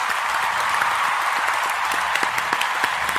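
Applause from an audience at a radio station's listener celebration, a dense, even wash of clapping with scattered sharper claps, steady throughout with no talking.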